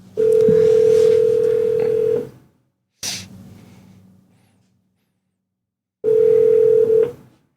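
A telephone call ringing out before pickup, with two long loud ring tones separated by a pause and a brief softer sound in between, no one talking.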